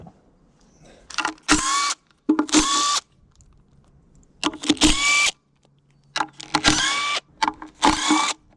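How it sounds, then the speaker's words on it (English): An impact wrench fitted with chrome sockets removes bolts from the top cover of an antique Caterpillar RD4 transmission. It fires in six sharp, loud hammering bursts of about a second each, with quiet gaps between them. "Yes, I use chrome sockets on an impact."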